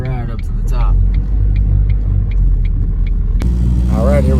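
A car climbs the road up Mount Scott, its engine and tyre rumble steady and close throughout, with a voice talking over it and a brief louder burst near the end.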